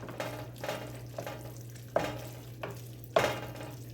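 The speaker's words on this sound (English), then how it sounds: "And mix the sauce all up in with the noodles" Sauce being stirred into noodles in a bowl for hamburger stroganoff: a series of wet scraping stirs, about six strokes in a steady rhythm, close and fairly quiet over a low steady hum.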